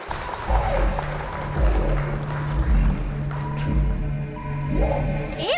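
An audience welcomes a Sambalpuri dance with applause, loud and sustained clapping in a large gathering, with a low steady hum and some voices underneath.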